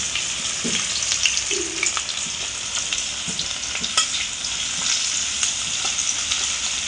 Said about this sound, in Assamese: পিঁয়াজখিনি হালকাকৈ ফ্ৰাই কৰি ল'ব প্ৰথমতে